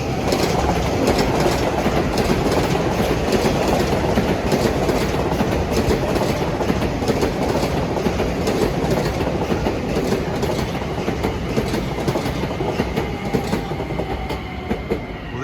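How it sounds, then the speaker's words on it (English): A commuter train rumbles steadily along triple track at Mineola during morning rush hour, with rhythmic clickety-clack from the wheels, loud and close throughout, with no voices. "Here's an odd train number, 2699. That's from Hicksville to Grand Central."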